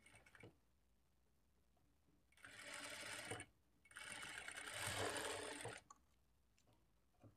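A domestic sewing machine stitches dot shapes onto the front panel of a blouse, running in two steady whirring bursts with a short pause between them and quiet handling sounds before and after.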